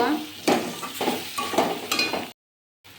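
Ground peanut paste frying in a pan for a vegetarian potato curry, with a loud sizzle and scraping stirs and clinks of a spoon against the pan in short bursts, then a sudden silence near the end.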